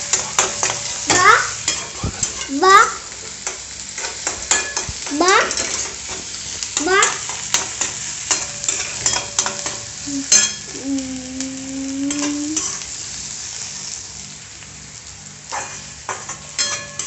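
Onions sautéing and being stirred in a pan, a steady sizzle with repeated scraping strokes of a spoon, loud and close, with a few metal clinks and a brief tonal squeal near the end.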